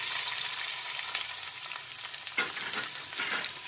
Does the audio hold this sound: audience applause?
no